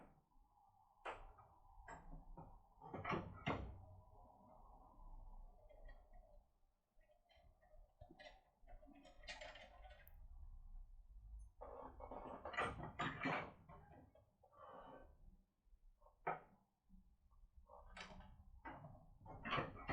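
Tension tool and comb pick work a used Apex lock removed from a door, giving a long run of close, quiet metallic clicks and ticks in irregular bursts, with soft scraping between them.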